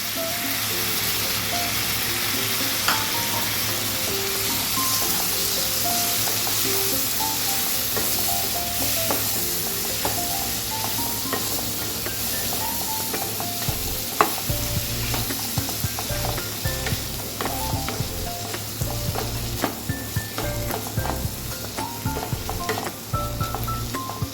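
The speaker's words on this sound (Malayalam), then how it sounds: "കുറച്ച് ഫ്രോസൺ പീസും കൂടി ഇട്ട് കൊടുക്കുന്നുണ്ട്" Mixed vegetables and frozen peas frying in a pan for Hyderabadi pulao, a loud steady sizzle with repeated clinks and scrapes of stirring throughout, no talking.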